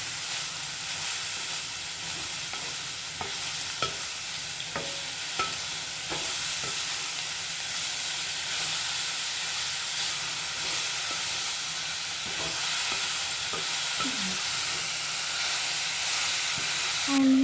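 Beetroot fry with turmeric stirred in a pan, a steady low sizzle under scattered scraping clicks of the spoon, continuous and close for the whole stretch.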